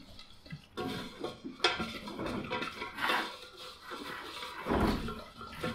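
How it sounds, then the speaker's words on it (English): Egg yolks, whole milk and cornstarch whisked together in a bowl, giving busy, uneven clattering and scraping of a whisk against the dish, loud and close, with no voices. "Whisk that together."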